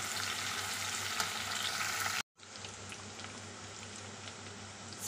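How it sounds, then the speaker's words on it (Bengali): Spring onion and garlic stir-fried together in a pan, a steady broadband sizzle with faint stirring scrapes, close and continuous, broken by a brief silent cut midway. "স্প্রিং অনিয়ন আর রসুনটাকে ভালো করে নেড়ে নিয়েছে"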